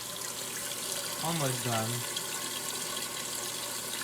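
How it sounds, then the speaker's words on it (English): A washing machine filling with water for its rinse cycle: a steady, soft rushing hiss throughout, with a voice speaking briefly over it. "And this one's now filling for rinse."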